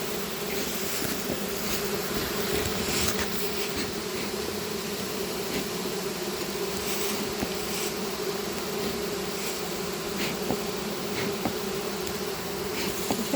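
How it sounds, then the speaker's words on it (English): Agitated honeybees at a hive being smoked, a dense continuous buzzing drone held at steady loudness, close and without talk. "the sound of the bees change from peaceful to agitated"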